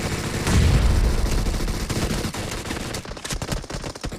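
Rapid bursts of video game gunfire crackle loudly and continuously, with dense automatic volleys and sharper separate shots toward the end.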